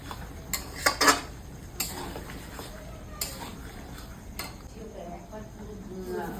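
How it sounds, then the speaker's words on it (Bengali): Mutton being stirred in a pan as hot water is added to cook it down, with metal spoon clinks and scrapes against the pot early on, then a quieter simmering hiss, close by. "3 হাতা দিলাম জল গরম দিয়ে কষাবো"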